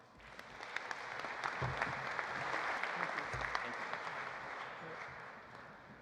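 A banquet audience at the Walter Camp Football Foundation Distinguished American Award applauds Tom Osborne as he is welcomed, a steady, fairly distant wash of clapping that holds evenly and fades slightly at the end.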